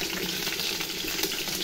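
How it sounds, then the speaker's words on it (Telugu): Peanuts and green chillies fry in oil for a Telangana-style dosakaya chutney, giving off a steady, close hiss of sizzling with no break. "ఆయిల్ పోసి పల్లీలు మనం పచ్చిమిర్చి వేయించుకుందామండి"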